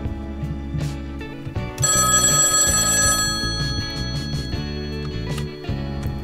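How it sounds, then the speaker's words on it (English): A telephone rings continuously, a bright electronic trill, over ongoing game music and effects during ski game play. "Wait, the phone is ringing."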